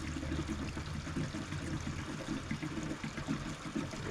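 Fuel treatment is poured into the fuel tank of a Toro TimeCutter zero-turn mower, a soft continuous liquid trickle and glug heard close up with no talking.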